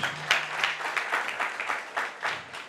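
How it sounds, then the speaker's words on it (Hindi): A seated community audience claps in steady applause, many hands at a lively even rhythm, fairly close and clear with little else beneath. "हम सब आपके लिए ताली बजाना चाहते हैं"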